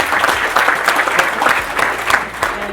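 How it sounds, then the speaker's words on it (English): Wedding guests break into a sustained round of lively, dense applause, close and full, with no speech over it. "how about another round of applause in general for anyone and everyone who took part in helping with the"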